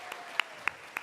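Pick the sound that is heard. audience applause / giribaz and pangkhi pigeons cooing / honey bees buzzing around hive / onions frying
audience applause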